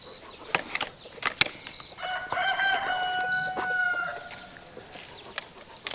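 A chicken crows in a long drawn-out call midway through, surrounded by scattered clucks and sharp clicks, heard outdoors near a cage at moderate distance.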